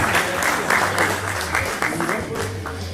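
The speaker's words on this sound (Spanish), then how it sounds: "Fuerte, fuerte el aplauso, el reconocimiento a Marcos." Audience applause rings out at a museum's anniversary ceremony honoring a man, dense continuous clapping from a crowd with voices mixed in throughout.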